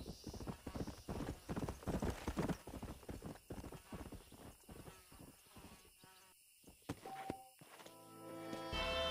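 Horse hooves clop in a quick, uneven rhythm close by in Red Dead Redemption 2, fading out partway through before other faint sounds take over.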